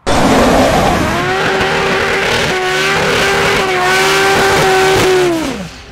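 Drag race cars launch in the 10.5 inch tread-width class at Umeå Open 2014 in Sweden, loud engines roaring and revving steadily with tire noise, holding high for about five seconds before the pitch drops and fades.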